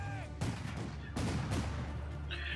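Gunshots aimed at enemy grenadiers in the World War II strategy game Company of Heroes 2, a few sharp distant reports amid battlefield rumble, with no speech.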